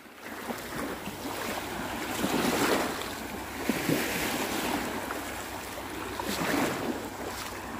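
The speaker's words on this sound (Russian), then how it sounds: "Такой хороший шум воды" Surf washing onto an Italian beach in steady, soft swells that rise and fall, with wind buffeting the microphone throughout and no talk.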